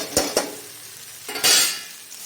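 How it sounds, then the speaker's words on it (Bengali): Ground cumin, coriander and turmeric fry in a pan, a close sizzle broken by a couple of quick spatula scrapes and one louder stirring swish. "তারপর ভালো করে মশলাটা কষিয়ে নেব।"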